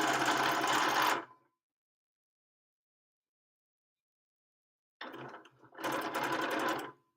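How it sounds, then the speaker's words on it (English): A Bernina sewing machine stitching in close, loud bursts: one run that stops abruptly, a long silence, then a short start and another steady run of rapid stitching. "I put needle down here and the machine will stop stitching"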